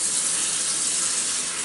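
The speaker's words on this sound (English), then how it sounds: "Quick hand wash." Hands are washed under a running kitchen tap, a steady, close hiss of flowing water that runs unbroken for the whole moment with no talking.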